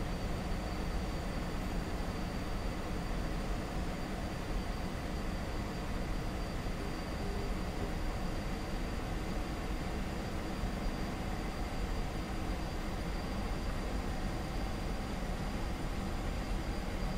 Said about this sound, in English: there's a choo-choo train heading for home